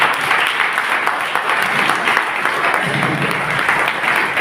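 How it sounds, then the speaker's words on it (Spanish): Applause from an audience at a night of Southern Jalisco legends, sustained, even clapping from many hands that stays loud and continuous from start to finish. "Un aplauso,"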